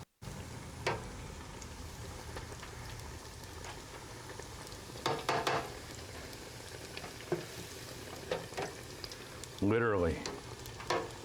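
Pieces of possum meat sizzle steadily while frying until lightly browned, a constant crackling bed with scattered pops; a voice briefly speaks once.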